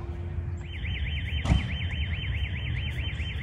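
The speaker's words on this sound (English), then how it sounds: "One of my dingers hit that house, now the alarm's going off." A house alarm near a baseball field sounds after a batted ball strikes the house, giving a steady, rapidly warbling electronic wail over outdoor background noise, with a brief thump partway through.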